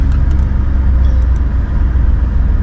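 Car driving on the road near Innes National Park, a steady loud low engine and road rumble from inside the vehicle, constant for the whole stretch with no talk.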